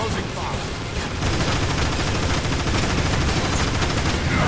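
Rapid gunfire from a futuristic weapon in the video game Transformers: War for Cybertron, loud and continuous in a steady rattle over dense game noise throughout.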